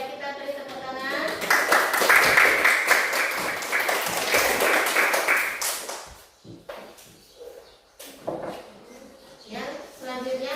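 A classroom group claps together in a dense burst of applause lasting several seconds, fading as a teacher's voice and scattered taps follow, with talking before and after.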